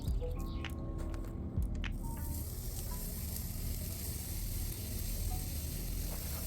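Tapatio-marinated meat sizzles directly over hot charcoal coals on a Char-Griller grill, a steady close crackling hiss with scattered pops running throughout, a few louder snaps near the start.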